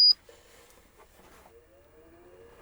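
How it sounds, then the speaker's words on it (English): A short, bright electronic beep from a Maliap HEPA air purifier at the start, then a faint low hum with a slow rising tone underneath. "I heard a beep, so you know it's plugged in."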